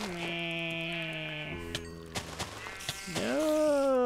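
Minecraft sheep bleating close by in several wavering calls, with a few short clicks between them and a final drawn-out bleat.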